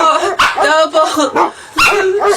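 A dog barks and yips in a few short bursts at night, loud and close, mixed with a person's voice speaking over it.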